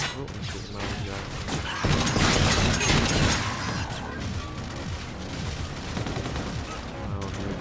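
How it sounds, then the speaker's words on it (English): Gunfire in the shooter Call of Duty: Infinite Warfare, with dense bursts of shots, clattering mechanical weapon noise and crashing impacts, loud and continuous, peaking in a heavy volley partway through. "Oh, I'm shooting my own guy."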